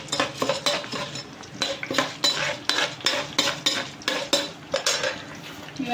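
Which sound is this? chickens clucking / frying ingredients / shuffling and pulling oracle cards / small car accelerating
frying ingredients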